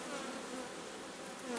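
Honeybees in an opened hive with nectar and pollen frames, a dense steady hum of many wings close up, unbroken and moderately faint.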